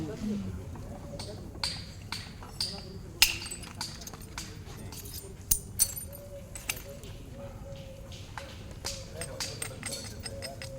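Antler hammer striking stone while knapping a bifacial flint tool, giving scattered sharp clinks and taps at irregular intervals over low background noise, with a few louder strikes standing out.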